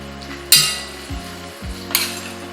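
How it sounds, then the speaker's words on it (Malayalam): Sliced shallots dropped into hot oil for prawn biryani, a steady bubbling frying hiss with two sharp clatters of utensils against the pan. "എണ്ണ ചൂടായിട്ടുണ്ട്. ഒരു 10-15 ഉള്ളി നമുക്ക് അരിഞ്ഞിടാം."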